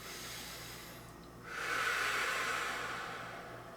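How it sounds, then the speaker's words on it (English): Deep breathing during an energy healing exercise: a quiet start, then from about halfway a steady, close airy rush of breath swelling and holding through the end, with no talk. "we're inhaling and exhaling"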